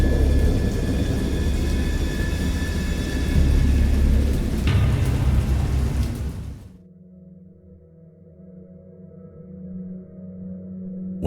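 Stormy thunder effect from the horror visual novel Dagon: a loud, continuous roar of wind, rain and rumbling for several seconds, then it abruptly cuts to a quieter low drone.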